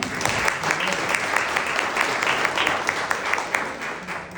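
A burst of applause, many hands clapping at once, steady and fairly loud, then tapering slightly at the end.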